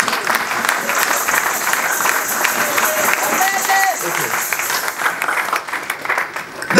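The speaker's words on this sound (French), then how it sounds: "Clap for Jesus" A church congregation at a seminar breaks into lively clapping, a loud, dense burst of hands that rises quickly and then thins out, with some voices mixed in underneath.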